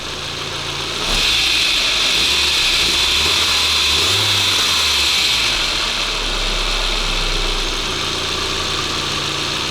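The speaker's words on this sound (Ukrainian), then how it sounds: "прогріваю двигунець для заміни масла" A Volkswagen Passat B5 engine idles while warming up before an oil change, a steady low rumble, briefly revving up before settling back to a smooth, close idle.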